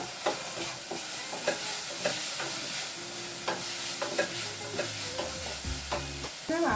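Cutlet filling cooks in a frying pan over a low flame, with a spoon scraping and stirring in regular strokes over a soft, steady sizzle, close and fairly quiet, with no talking.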